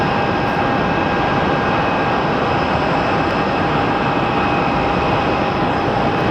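A Boeing 777 airliner taxiing in at Phoenix airport gives a loud, steady engine roar with a constant whine, heard from nearby without any talking.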